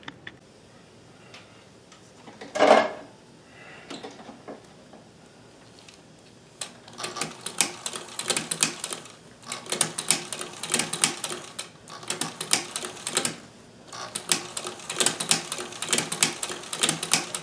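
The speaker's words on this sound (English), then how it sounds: "So I'm retracking because it sews on the left or on the right side" A Singer sewing machine fitted with a hemstitcher attachment runs in rapid ticking bursts after a quiet start and one brief thump, the mechanical clatter close and fairly loud with short pauses between runs.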